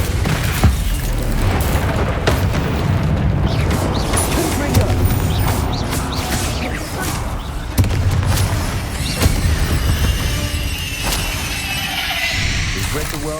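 A Confringo explosion spell goes off in Hogwarts Legacy during combat against a spider. Loud booming blasts and crashing impacts repeat through a busy, dense stretch of game action.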